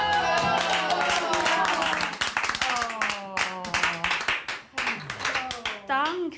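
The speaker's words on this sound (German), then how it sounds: "Danke dann schon noch vielmals für den herzlichen Applaus." Audience applause and hand clapping at the grand finale of a Swiss rural women's cooking competition, with excited voices and chatter talking over the clapping throughout.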